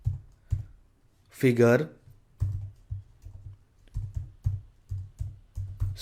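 Code being typed on a computer keyboard: a string of crisp, close key clicks in irregular bursts, with a brief spoken word partway through.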